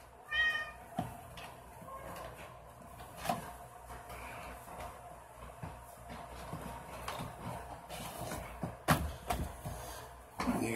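A pet cat meows at a household card-opening session, one short cry near the start, followed by scattered rustling, clicks and handling noises, with no talking.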